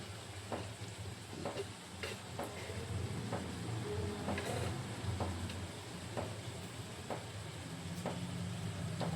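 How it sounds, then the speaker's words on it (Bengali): Kitchen knife chopping an onion very finely on a board, a steady run of crisp, evenly spaced taps close by over a low background hum, with no voice heard. "এই পেঁয়াজটাকে খুব কুচো কুচো করে কাটবো, একদম মিহি করে কাটবো"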